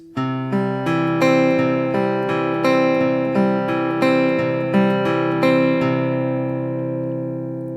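Fingerpicked guitar notes in a Travis-style inside-out pattern ring out one after another in a steady rolling pattern, each plucked string sustaining and overlapping the next, clear and close.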